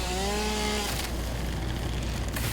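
A chainsaw in a video game roars as a steady, loud, dense buzzing drone, preceded briefly by a tonal whine that then gives way to continuous rough motor noise.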